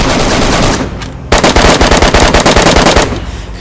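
Rapid bursts of automatic gunfire in the video game DayZ, loud and close, with a brief pause after the first volley and then a sustained rhythmic string of shots.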